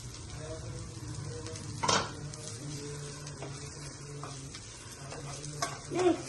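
Idli pieces stirred with turmeric in a pan for idli upma, soft scraping and a few metallic clinks over a faint background hum, close by, with a brief murmur of voice.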